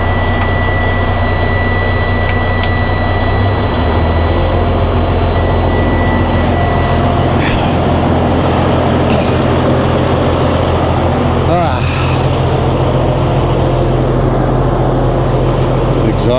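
A semi truck's engine runs steadily to build up air pressure, a loud continuous drone with a low rumble and a whining hum held throughout, with faint clicks on top.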